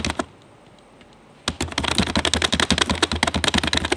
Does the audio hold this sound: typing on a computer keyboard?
yes